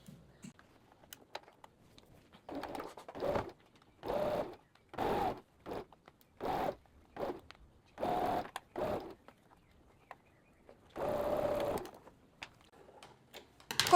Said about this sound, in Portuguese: agora a gente vai costurar essa parte do punho aqui na nossa manga